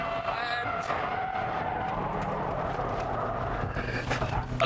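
A Subaru WRX STI sliding through a turn at about 100 mph, its engine roaring steadily with tyre scrub and wind noise, loud and close throughout, with no speech.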